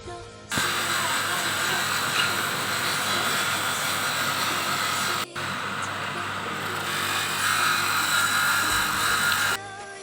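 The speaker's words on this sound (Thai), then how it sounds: "นี่จะพามาชมการขัดเงาขึ้นรูปนะครับ นี่ ไม้ตาลของเรานะครับ" Power tool polishing and shaping palm wood in a workshop: a steady high-pitched whine and grinding hiss, close and constant, cutting out briefly around the midpoint before resuming, then stopping abruptly near the end.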